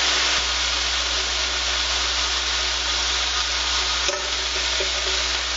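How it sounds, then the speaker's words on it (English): Bacon strips frying in a pan sizzle with a steady, dense crackle throughout, close and fairly loud, with a brief knock or scrape near the end; no one speaks. "you're gonna grab your bacon and put it on the pan"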